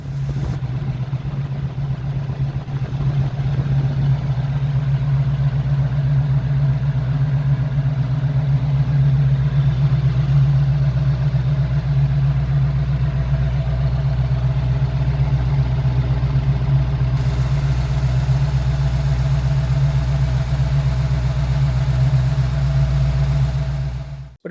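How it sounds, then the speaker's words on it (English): Used engine of unknown make from a marketplace purchase idles steadily and loudly for the whole stretch, a faint rapid valve-train tapping riding on the low drone, with no talking. "we'll see if you can hear it making its tippy-tappy noises"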